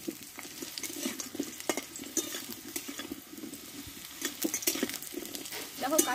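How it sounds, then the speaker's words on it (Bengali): Raw green banana chunks sautéed in oil in a pan, with a steady low sizzle under irregular scraping stirs and occasional utensil knocks against the pan, close by. "কাঁচা কলাটা ভালোভাবে কষে নিয়েছি"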